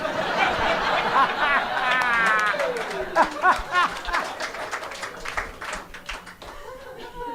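A live audience at a comedy podcast taping laughs loudly at a joke, then breaks into scattered, rising applause as the laughter fades, with the crowd's voices mixed throughout.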